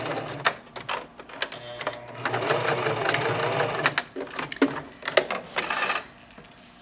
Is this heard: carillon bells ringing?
no